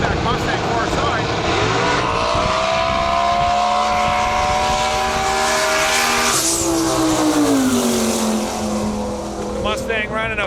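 Chevrolet Monte Carlo and an old fastback Ford Mustang drag racing at a qualifying event, loud engines roaring steadily as the cars launch and run, pitch rising and shifting, with crowd noise and a voice underneath.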